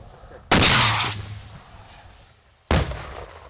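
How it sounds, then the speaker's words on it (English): Recruits firing RPGs at a target practice range in Ukraine: two loud, sharp launch blasts, the first with a long roaring tail that fades over a second or so, the second about two seconds later, over faint outdoor background. "Recruits need to learn how to fire RPGs."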